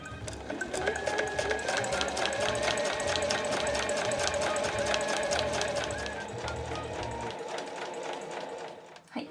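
A sewing machine runs continuously and close up, stitching a 1 cm seam through a quilted fabric pouch, a steady fast whir that stops near the end.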